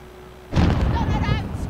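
A grenade blast in a multiplayer shooter game erupts suddenly after a quiet half second, a loud sustained boom with crackling debris and game voice callouts over it.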